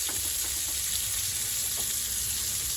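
Sausage searing in a hot pan, giving a steady, close, loud sizzle with crackling spatter that holds evenly throughout and has no voices over it.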